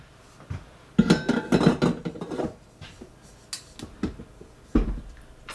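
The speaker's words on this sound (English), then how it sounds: "I'm actually going to transfer this bowl to my mixer" A bowl of hamburger bun dough mixture is lifted and set onto a stand mixer, with close clunks and clinks of bowl against metal, a cluster of handling knocks and then a couple of sharper thuds.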